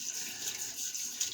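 Tap water runs steadily into a white bathroom sink to rinse a shaving brush, a continuous close hiss and splash with no talk over it.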